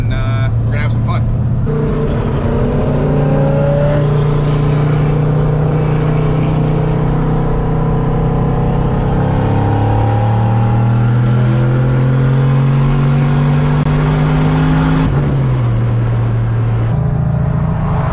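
Loud, close engine drone of a turbo Corvette on the highway, its pitch climbing steadily and dropping at gear changes, over constant road and wind roar.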